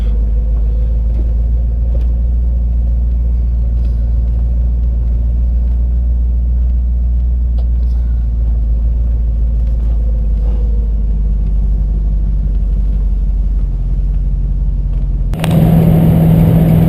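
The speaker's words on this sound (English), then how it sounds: "Driving this Mustang convertible back from Old School Garage." A 1965 Ford Mustang convertible cruises steadily with a constant low engine rumble and road noise, ending in a sudden louder shift in the sound.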